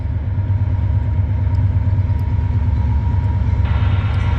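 Steady, heavy low rumble of a passing freight train at night on a Canadian National line, continuous and loud throughout with a faint hiss rising near the end.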